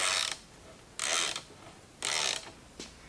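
Hand tools tighten bolts on a Triumph 650 engine case, three short raspy ratcheting bursts spaced about a second apart, close and fairly loud, with a faint click at the end.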